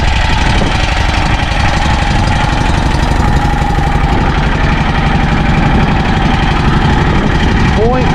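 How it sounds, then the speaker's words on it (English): A Scag V-Ride lawn mower engine runs steadily and loudly throughout, a continuous rough drone with wind noise on a cold, windy day, close to the listener. "let's replay that engine and listen to it"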